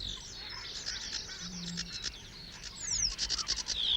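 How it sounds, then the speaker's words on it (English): A sedge warbler sings from a reed bed in late spring, a varied, scratchy run of chirps and whistles that grows busier toward the end, with a faint low background hum. "The varied song of the sedge warbler announces its arrival for the northern summer."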